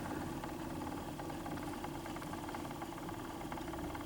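A Victor phonograph's turntable motor runs with a steady, low mechanical rumble and faint hum, continuous and quiet with no other sounds.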